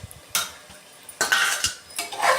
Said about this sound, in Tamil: இப்போ நம்ம அந்த காயெல்லாம் போட்டுடலாம்.